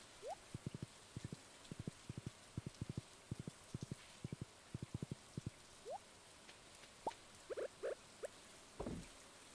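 Light rain patters in the farming video game Stardew Valley, heard as rapid clusters of soft ticking drops in quick bursts, with a few brighter chirps and a low thump near the end, all quiet and with no talk.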